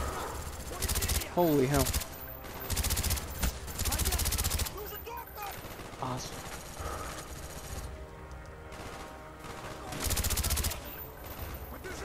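Gunfire rattles through a Call of Duty: Black Ops mission in repeated loud bursts and volleys, with quieter gaps between them, while someone speaks over the shooting.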